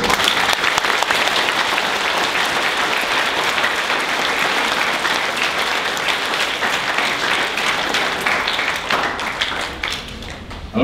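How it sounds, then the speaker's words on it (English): A school assembly crowd of students and staff claps a long, hearty round of welcome applause, dense and sustained for about ten seconds before thinning out at the end. "give all of our new students and our foundation students a really hearty welcome round of applause"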